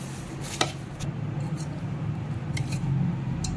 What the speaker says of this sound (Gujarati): હવે બરાબર ચમચા વડે હલાવીશું